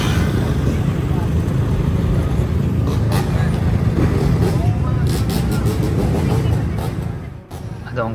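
A group of motorbike racers pulls away from a traffic signal, a dense engine and traffic roar filling the street loudly and continuously before easing off near the end, with voices mixed into the noise.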